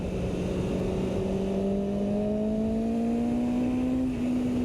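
A 2022 BMW S1000RR M motorcycle engine hums at a steady rising drone, its pitch climbing smoothly as it accelerates, loud and close.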